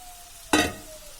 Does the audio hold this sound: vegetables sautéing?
yes